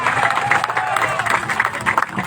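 An audience at an Indonesian candlelight gathering applauds a speaker just introduced, a brief burst of dense, close clapping with some cheering mixed in.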